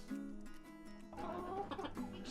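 Soft clucking and low chattering from a flock of roosters, several birds calling in short overlapping bursts at moderate distance, growing busier toward the end.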